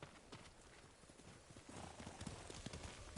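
Horse hooves clip-clopping at a steady walking pace in the video game Ghost of Tsushima, close and quiet against a soft ambient background.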